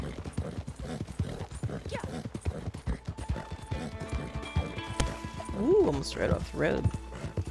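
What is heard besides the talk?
horse hooves galloping while riding in Red Dead Redemption 2 video game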